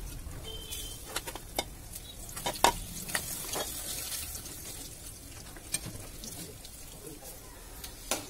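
Hincha greens fry in a home kitchen pan with a steady crackling sizzle and repeated sharp clicks and scrapes of a stirring spoon, close up, no speech.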